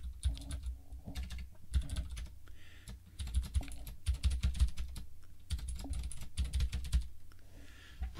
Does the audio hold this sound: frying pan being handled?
no